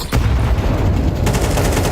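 Grenade stack explosions and gunfire in Counter-Strike 2 during a PGL Major esports match, a dense, loud burst of blasts and rapid shots filling the whole stretch without pause.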